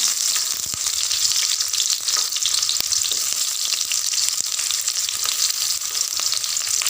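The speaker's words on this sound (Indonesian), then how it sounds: "Minyak sudah panas, kita masuk irisan bawang merah." Sliced shallots fry in hot oil with a steady, dense sizzle that holds at an even level throughout, broken by faint clicks of stirring and no voices.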